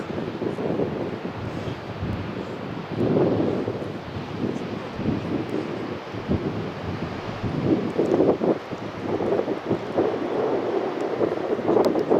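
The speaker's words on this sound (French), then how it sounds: "Le temps est beau mais venteux." Gusty wind at a mountain base camp buffets the microphone in a steady, rushing roar that swells and eases in waves, with no one speaking.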